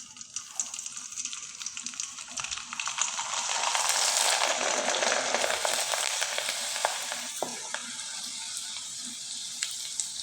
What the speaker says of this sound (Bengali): এখন আপনাদের কয়েকটা পিঠা আমি তেলে ভেজে দেখিয়ে দিব